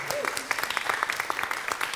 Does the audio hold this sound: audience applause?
yes